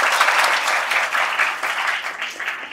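An audience applauding at a school birthday celebration, a dense rapid patter of many hands clapping, steady and fairly loud throughout.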